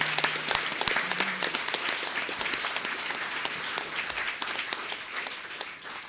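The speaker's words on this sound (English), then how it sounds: "let's give a round of applause to Mr." Audience at an emancipation anniversary panel discussion gives an honoree a round of applause. Many hands clap in a steady, full burst, close and loud, then taper off slightly near the end.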